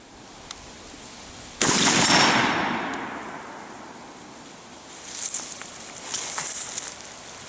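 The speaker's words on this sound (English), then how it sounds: "it's a shot on steel, rifled slug at 100 meters" A Molot Vepr 12 semi-auto AK-style 12 gauge shotgun fires a rifled slug at a steel target 100 meters away: one loud sharp blast that decays into a long fading rumble, followed later by faint distant noise.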